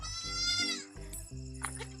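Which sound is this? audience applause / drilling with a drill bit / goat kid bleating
goat kid bleating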